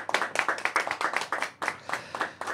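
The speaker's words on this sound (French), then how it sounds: "On vous applaudit, Monsieur Patrick Levieille." A small audience claps for a guest at a local gathering in La Rochette, with distinct individual hand claps in a quick, uneven rhythm, close and moderately loud, continuing steadily throughout.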